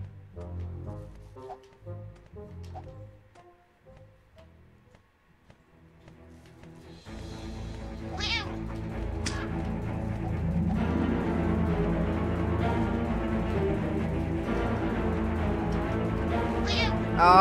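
A cat meows several times in the video game The Purring Quest, short high meows over a steady bed of game music and ambience, with some talking near the start.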